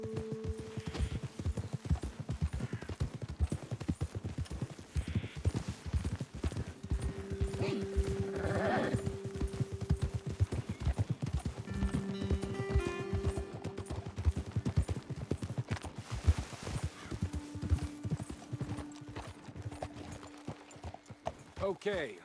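Horse hooves clip-clop steadily through a Red Dead Redemption 2 ride, several horses moving together under ongoing talk, with an occasional bleat-like animal call in the mix.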